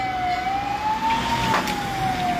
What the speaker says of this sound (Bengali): দমকল এসে পৌঁছেছে